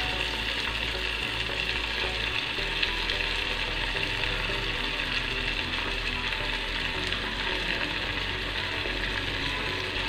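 Onions, later joined by tomatoes, frying for biryani in a pan, giving a steady, loud, continuous sizzle close up with no talk over it.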